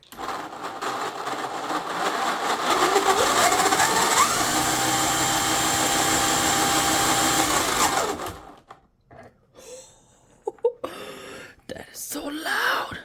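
A 3D printed high-ratio gearbox whirs at high speed, a loud, steady mechanical whine with a rattling buzz for about eight seconds before cutting out, followed by quiet clicks and brief handling noises.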